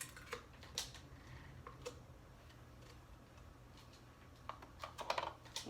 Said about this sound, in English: I hear a couple clicks in the background.